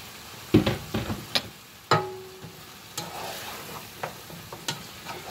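Spoon stirring minestrone soup with beanie weenies in a pot as it starts to boil, with several clacking scrapes against the pot over a low simmering background.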